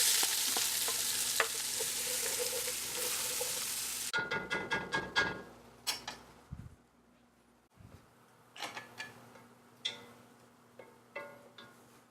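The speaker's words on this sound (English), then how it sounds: "I've turned the heat down to medium-low on the stovetop, and I'm going to now add the carrots and the onions." Carrots and onions fry in a pan on a stovetop at medium-low heat, a steady loud sizzle that drops to a softer crackle partway through, broken by clinks and scrapes of stirring.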